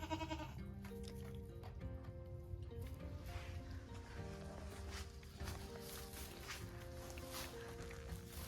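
Baby goats on a farm bleat repeatedly in thin, wavering cries, close by over a busy background of rustling and farm noise.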